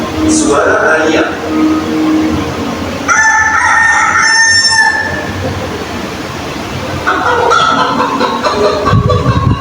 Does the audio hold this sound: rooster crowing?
yes